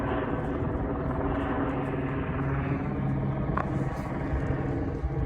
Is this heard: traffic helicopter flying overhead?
yes